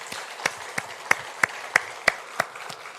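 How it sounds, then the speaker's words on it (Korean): Church congregation clapping in celebration during an Easter Sunday service, heard as a soft background patter punctuated by sharp evenly spaced claps about three times per second. "우리 박수로 축하하겠습니다"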